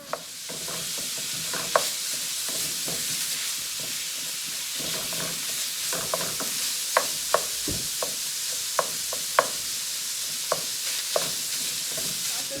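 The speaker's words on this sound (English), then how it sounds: "And right away start breaking down your Italian sausage." Italian sausage sizzling in a pan while being broken up for stuffed shells, a continuous frying hiss with scattered sharp scrapes and taps of a utensil against the pan, close, no talking.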